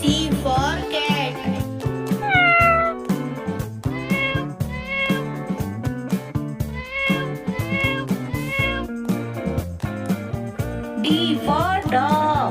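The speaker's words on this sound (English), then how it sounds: "C for cat. C for cat." A cat meows over a bouncy children's phonics song with music, the meows rising and falling in clear repeated calls that are loud and up front against the backing track.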